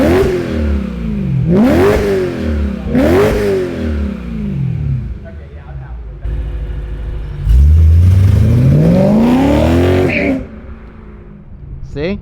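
A BMW E90 M3 with an Akrapovic exhaust revs hard several times, sharp rising exhaust roars and crackles, close and loud, with a long final rev before settling to idle.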